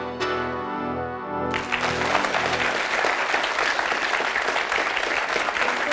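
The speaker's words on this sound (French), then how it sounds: "Merci, on peut l'applaudir." Audience applause from a French television show crowd, breaking out after a short musical sting and then holding as loud, dense, steady clapping to the end.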